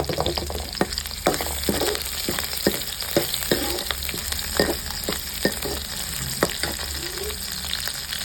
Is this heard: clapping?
no